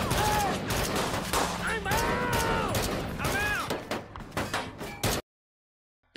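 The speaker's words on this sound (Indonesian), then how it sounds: "salah satu militan melancarkan serangan secara membabi buta dengan senjata mesinnya" Militants firing machine guns indiscriminately in a battle, loud dense bursts of gunfire with sharp impacts and shouting voices layered over it, continuing for about five seconds before cutting to silence.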